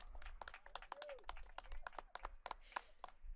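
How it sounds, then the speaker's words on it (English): Scattered applause and individual hand claps at an outdoor street dedication ceremony for a square, sparse and fairly faint with distinct separate claps and a low rumble of background noise. "let's give it another big round of applause"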